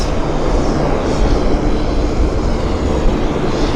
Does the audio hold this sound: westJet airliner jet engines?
yes